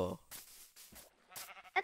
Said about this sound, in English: I want to get the sheep